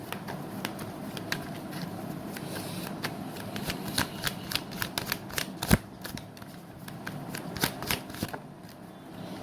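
Tarot cards are shuffled up close in a rapid, irregular run of crisp riffles and flutters, with sharp snaps scattered throughout and no one speaking.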